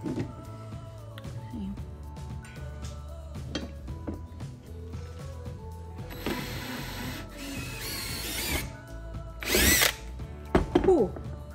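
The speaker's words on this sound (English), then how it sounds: "Uh-oh, I drilled through the cable." A power drill whirs through a cable in a workshop, with short buzzing bursts and clicks followed by louder, longer drilling runs near the end, heard close with some talk in the background.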